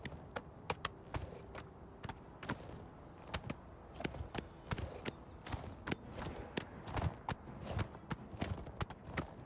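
Horse hooves clip-clop at a slow, steady gait during horseback riding in a fantasy video game, crisp repeated knocks close up, alone without talk.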